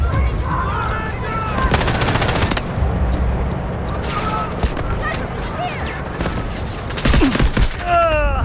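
Artillery barrage and gunfire in the Delta Force video game, with dense bursts of shots and rapid fusillades running through the whole scene, loud and close, with game voice callouts in between.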